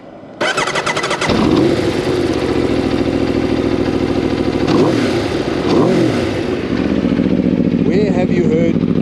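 Aprilia RSV4 Factory Final Edition superbike with its stock, street-legal exhaust, the engine barking to life and then revving hard and loud, with repeated throttle blips over a steady rumbling idle, close up.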